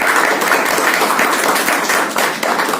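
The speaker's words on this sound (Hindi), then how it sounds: "मैं तो कहूँगी एक बार इतनी तालियां बजाइए" A crowd at a book launch for a Shreemad Bhagavad Gita book claps loudly and briskly, dense close applause with a few sharper individual claps standing out.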